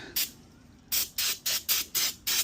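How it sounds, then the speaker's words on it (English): Throttle body cleaner is sprayed in short hissing bursts onto a 2007 Ford Mustang 4.0 engine surface. There is one burst, a pause, then six quick, evenly spaced sprays, close and alone. "Using throttle body cleaner here."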